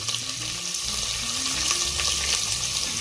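Thinly sliced onions hit hot oil where cashews are roasting for a vegetable pulav, giving a steady loud sizzle and crackle that holds evenly throughout, close up and with no talking.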